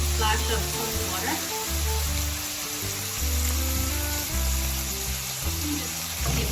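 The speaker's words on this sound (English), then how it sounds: "Now I'm just going to add a little splash of cold water." A splash of cold water sizzles in a hot stir-fry pan of a vegan Chinese dish with ginger and spring onion, giving a continuous hiss and crackle under steady, tonal background music.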